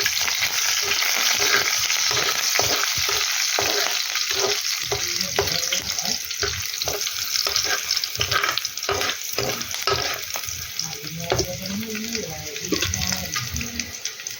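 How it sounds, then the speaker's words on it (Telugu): Curry leaves and green chilli pieces fry in hot oil and are stirred around a pan, a loud, busy crackling sizzle with scraping stir strokes throughout and a voice speaking intermittently underneath. "కరివేపాకు వేసుకుని కలుపుకోవాలి."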